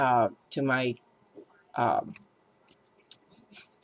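A computer mouse gives a few sharp, faint clicks between and after short bursts of nearby talk.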